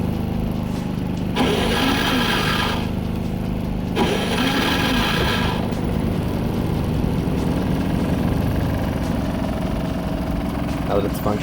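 A Predator 3500 portable generator starts up and keeps running, a steady close engine drone with louder bursts of revving partway through.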